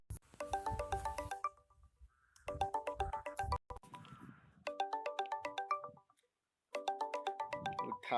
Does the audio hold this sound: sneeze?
no